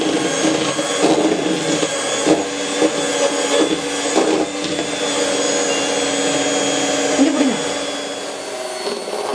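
An electric beater whirs steadily while beating chocolate ice cream batter in a home kitchen in Delhi, a loud continuous motor drone with slight shifts in pitch as it works through the mix, fading near the end.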